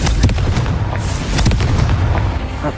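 A fire spell blast cast in Hogwarts Legacy, a loud, dense boom with crackling bursts sustained across the whole moment, sharp cracks punctuating a steady roar.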